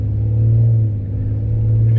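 A deep, steady engine rumble idles close by, a low droning hum that holds constant with a slight dip midway.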